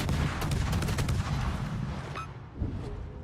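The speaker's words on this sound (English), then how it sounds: "They see me and immediately shoot at me." Enemy warships open fire in World of Warships: a rapid volley of heavy naval gunshots and artillery booms, loud and close, fading into rumbling quiet near the end.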